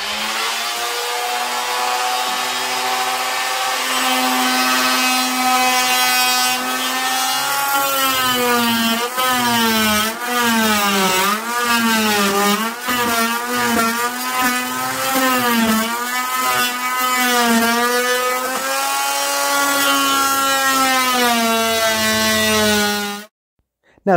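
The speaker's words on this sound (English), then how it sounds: "I'm going to use the multi-tool and a plunge cut blade and cut it out." An oscillating multi-tool with a plunge cut blade cuts into a wooden baseboard, giving a loud, sustained buzzing whine whose pitch wavers and dips as the blade bites, running about twenty seconds before stopping suddenly.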